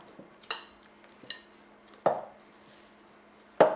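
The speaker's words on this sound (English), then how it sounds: "all I wanna do here is stir that until it starts to get a bit, I would say it resists a little bit" Pita bread dough being stirred in a bowl: a few separate knocks and scrapes of a utensil against the bowl, spaced about a second apart, close and moderately loud, with no talk.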